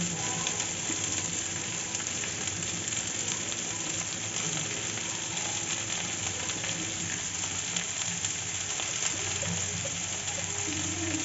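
Onions frying in oil for Hyderabadi chicken dum biryani, a steady close sizzle with dense crackling that holds level throughout, no talk over it.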